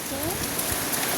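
Steady rain falls outside a window, a constant soft hiss of drops on surfaces with no pauses, with faint voices in the background.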